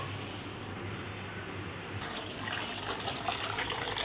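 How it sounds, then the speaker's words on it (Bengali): Water runs from a tap as a container is filled in a home kitchen, a steady low rushing hiss that brightens and grows slightly louder partway through, close by with no talking. "দেখো এখান থেকে জল ভরে নিয়ে যাচ্ছি"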